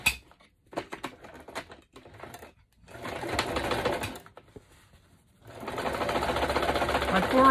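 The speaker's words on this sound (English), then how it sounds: "And I'm going to switch it to a zigzag. Ooh, it's thick. My machine's not liking it." A home sewing machine runs a zigzag stitch through thick material in several bursts of rapid mechanical chatter separated by pauses, laboring under the load, with no speech over it.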